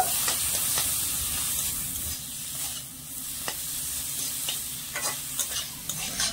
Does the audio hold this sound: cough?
no